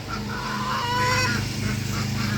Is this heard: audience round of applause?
no